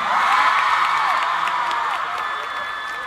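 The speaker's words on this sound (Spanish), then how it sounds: "No dejan de aplaudir" Large concert crowd at a stadium reopening applauding and cheering steadily, a dense roar of clapping with whoops and shouts, loud and sustained throughout, easing slightly toward the end.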